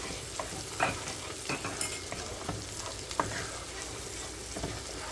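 Green pepper going into a pan of garlic butter chicken, sizzling and frying steadily while being stirred, with scattered utensil clinks and scrapes over a continuous hiss.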